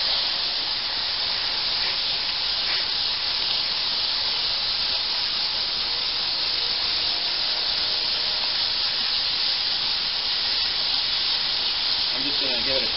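A steady water spray hisses continuously while rinsing mud off a dirty object outdoors, constant and loud with no breaks, faint talk barely under it.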